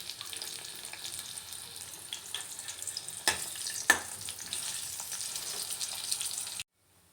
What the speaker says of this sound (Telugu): ఎండుమిర్చి వేసుకోవాలి ఇవి కొంచెం ఫ్రై అయిన తర్వాత దీనిలోనే చింతపండు కూడా తీసుకోవాలి